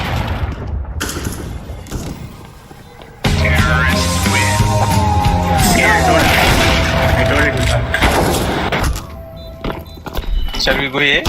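A grenade explodes in a video game as a sudden loud boom that opens into a long, dense roar of blast and combat noise, with voices talking over it.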